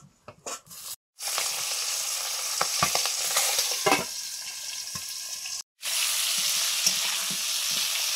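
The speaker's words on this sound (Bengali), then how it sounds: "এবারে ভাজবো মাগুর মাছগুলো" Magur catfish frying in oil in a pan, a loud continuous sizzle with crackling spatters running almost the whole time, broken by two brief silent gaps.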